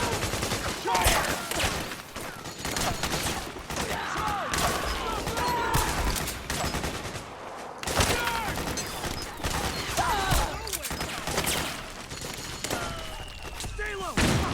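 Sustained gunfire and bursts of automatic weapons in a Metal Gear Solid 4: Guns of the Patriots battle, dense and continuous for the whole stretch, with soldiers shouting orders over the shooting.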